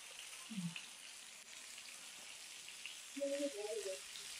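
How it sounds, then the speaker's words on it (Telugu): Corn-flour-coated chicken leg pieces fry in a pan with a faint, steady sizzling hiss, accompanied by a couple of soft brief tonal sounds. "ఈ కార్న్ ఫ్లోర్ వేయడం వల్ల"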